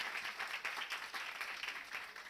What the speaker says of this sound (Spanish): fuerte el aplauso para el trabajo de ustedes